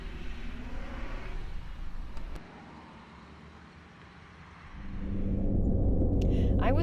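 Ram ProMaster van cruising in tow haul mode on a Pennsylvania road, a steady low engine and road rumble that dips quieter midway, then swells louder and rougher toward the end.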